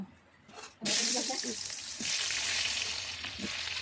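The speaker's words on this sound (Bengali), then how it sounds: "তেলটা ভালোভাবে গরম হয়ে গেলে আমরা ওখানে কেটে রাখা আলুগুলো দিয়ে দিব।" Cut potatoes dropped into hot oil seasoned with turmeric and salt, starting with a sudden loud sizzle that holds steady as frying, with faint stirring clinks underneath.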